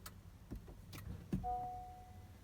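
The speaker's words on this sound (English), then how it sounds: "I'm gonna turn the car on." A 2018 Honda Accord Sport starts with soft clicks and ticks, then a steady hum and a faint electronic tone come in, heard close inside the cabin with no talk.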